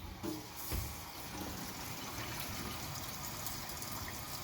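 Water draining down a cleared kitchen sink, a steady low gurgling rush after a couple of soft knocks at the start, quiet and continuous.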